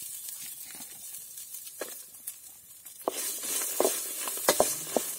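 Onion and garlic with cinnamon and cloves fry in a pan for a village-style egg curry, giving a steady soft sizzle with occasional stirring scrapes and taps that grow busier toward the end, with no talking.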